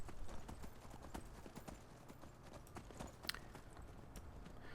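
A horse's hooves clip-clop at a steady walking pace in the Skyrim video game, quiet and fairly distant, a continuous rhythmic patter of hoofbeats with no talk.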